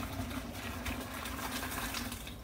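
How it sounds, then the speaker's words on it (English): Hot pasta water pours from a pot into a kitchen strainer, a steady close rushing gush of liquid that runs continuously and fairly quietly on its own. "and the rest goes into the strainer"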